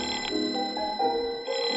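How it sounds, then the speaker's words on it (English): A telephone rings in the Blue Note Cafe during a radio drama, giving a moderate tonal ring over a soft background. "Your phone's ringing."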